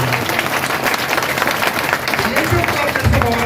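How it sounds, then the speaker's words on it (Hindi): Loud audience applause at a club launch event fills the space, dense steady clapping throughout with crowd noise and a voice speaking over it. "जोरदार तालियां, जोरदार तालियां।"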